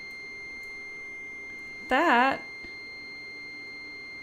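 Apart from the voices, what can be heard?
electronic beeping as power cuts off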